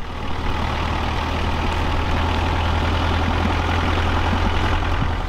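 A safari vehicle's engine rumbles steadily while driving along, a loud, constant low drone that runs unbroken from start to finish with no voices.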